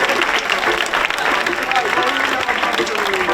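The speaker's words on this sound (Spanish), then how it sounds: "Fuerte aplauso." Crowd applause at a motorbike gymkhana prize ceremony during a neighbourhood fiesta in Zaidín, Spain: dense, steady clapping fills all three seconds, loud and close, with voices mixed into the crowd noise.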